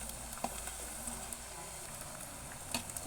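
Potato vadai deep-frying in hot oil, giving a steady, soft sizzle with faint crackles and pops, heard close and continuous throughout with no talking.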